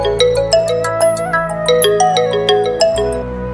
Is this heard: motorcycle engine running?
no